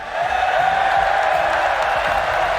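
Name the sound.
crowd cheering at esports event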